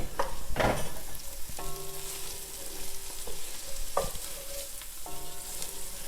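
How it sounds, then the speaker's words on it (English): Garlic and bacon lardons frying in a pan with vegetables for a Bolognese sauce, giving a steady close sizzle broken by a few sharp utensil knocks and scrapes, with no talking. "we're going to add our garlic, and we're going to add back in our lardons"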